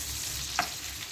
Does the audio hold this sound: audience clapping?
no